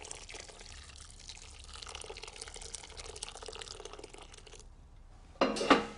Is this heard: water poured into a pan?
yes